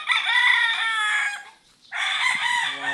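A Lemon Sweater gamefowl rooster crows twice, loud and close: a long harmonic call, a brief gap, then a second crow, with no talk.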